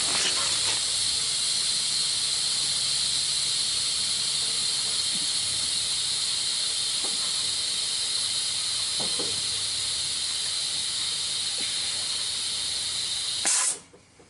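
Continuous loud air hiss from a stuck-open air ride valve on a 2003 Chevrolet Duramax C4500 rollback truck, steady and close for over thirteen seconds before abruptly cutting off.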